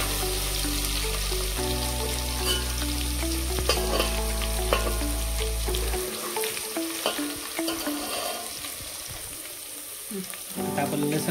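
Garlic sizzles in hot oil for a village-style mutton curry, a loud, close crackle with scraping stirs that eases to a softer sputter about halfway through.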